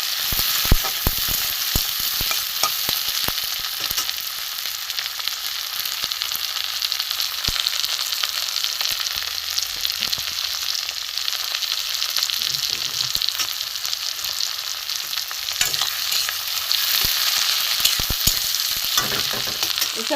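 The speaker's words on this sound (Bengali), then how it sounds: "এগুলো একটু ভাজা ভাজা হোক।" Chopped onion, tomato and garlic frying in a pan for a fish roe fritter dish, a continuous loud sizzle with occasional stirring scrapes and clicks, close up and with no talk.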